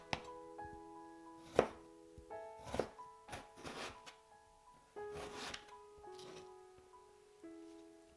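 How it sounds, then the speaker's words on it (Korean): A kitchen knife finely julienning radish thumps on a cutting board in quick irregular bursts, close and crisp, over soft sustained background music. "무를 곱게 채 썰어주세요."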